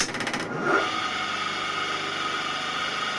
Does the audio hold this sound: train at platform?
no